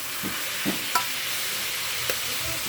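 Food stirred in a frying pan: a few soft scrapes and light knocks over a steady low sizzle, close but fairly quiet, with no voices.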